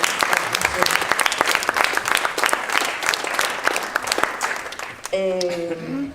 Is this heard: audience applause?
yes